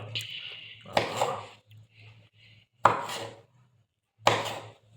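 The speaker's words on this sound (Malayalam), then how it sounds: "മാങ്ങ പ്ലം നമുക്ക് കട്ട് ചെയ്തിടണം നമുക്ക് ചെറുതായിട്ട് എരിയണം" Mango and plum being cut into small pieces with a knife: three sharp chopping strikes spaced about 1.5 seconds apart, close and fairly loud, with a low hum and faint background sounds between them.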